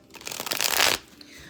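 A quick riffle shuffle of a card deck, a fast flutter of snapping cards lasting under a second, close and clear.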